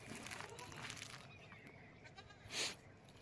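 Goats bleat in a farm shed in the early morning, wavering calls rising over steady background noise, with one louder, closer bleat near the end.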